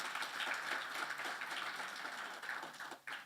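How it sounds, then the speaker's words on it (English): Audience applause for students at the closing ceremony of a national business model competition, a steady wash of many hands clapping at moderate distance, holding for a few seconds before tapering off. "And I believe we should give them a round of applause."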